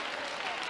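A church congregation clapping hands during a gospel service, a dense, steady wash of many hands at once in a brief burst.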